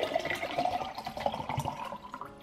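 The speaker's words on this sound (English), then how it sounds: "Just adding my hot water now." Hot water pours into a cup for evening tea, a continuous splashing, gurgling liquid stream that sits close and fairly loud for a couple of seconds, with no talking.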